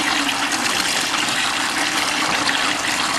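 Water rushes steadily through a John Deere engine's cooling system, a constant broadband hissing gush with no pauses, loud and close, with a faint low engine hum underneath.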